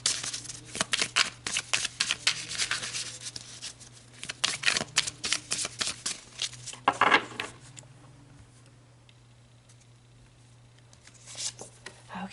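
Oracle cards shuffled by hand in bursts of quick riffling flutters and soft slaps, close and fairly loud, easing into near quiet before a final short shuffle.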